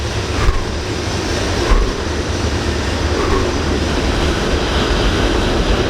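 A train rumbling past near a forest at night, a loud, steady broadband roar with a heavy low-end rumble that holds throughout, with no talking.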